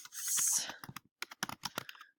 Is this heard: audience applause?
no